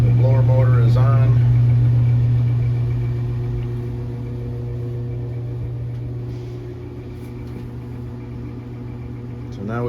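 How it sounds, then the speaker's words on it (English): A blower motor running steadily as a continuous mid-pitched hum and whir, loudest at first and then settling lower, with a brief voice at the start. "The blower motor is on."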